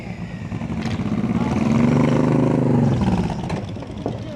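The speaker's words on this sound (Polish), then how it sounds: "Czekajcie, bo motory ruszają." Motorcycles pull away from a mountain restaurant in the Beskidy, their engines rising in a rumbling surge that swells and then fades over a few seconds at moderate distance, without speech.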